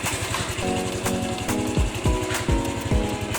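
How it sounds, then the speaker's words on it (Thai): A Honda Wave 110i motorcycle engine idles close by in a steady, fast put-put rhythm, with a few sharp clicks and thumps breaking in toward the end. "นี่คือเครื่องติดแล้วนะครับก็คือสามารถขับขี่ได้เลยครับตามปกตินะครับ"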